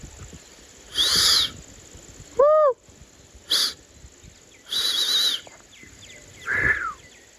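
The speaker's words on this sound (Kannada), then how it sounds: "ನವಿಲು ನೋಡಿ ಗಾಯ್ಸ್, ಎಷ್ಟು ಚೆನ್ನಾಗಿದೆಯೋ." Peacock calling outdoors near a grandmother's village home, several loud, ringing calls spaced a second or so apart, with quieter chirps from other birds between them.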